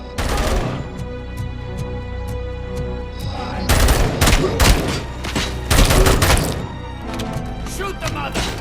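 Gunfire in the video game RoboCop: Rogue City: loud, dense bursts of rapid shots with sharp impacts, heaviest in two volleys midway, set against a continuous game soundscape.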